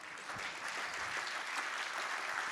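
Applause from a French talk-show studio audience, a dense, steady wash of many hands clapping at moderate volume, heard alone with no voices over it.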